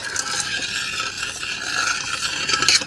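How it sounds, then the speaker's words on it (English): Thai sweet chilli sauce stirred in a pot on the heat, a steady scraping and swishing of utensil against pan, fairly loud and close, rising slightly at the end, with no voices. "I can put that into the mix, give it a stir, bring it back up to heat,"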